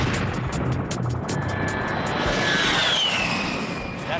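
A-10 Thunderbolt II ground-attack jet with nearly 20,000 pounds of thrust, its loud, continuous engine roar filling the whole stretch as a dense, broad rush with a rising whine.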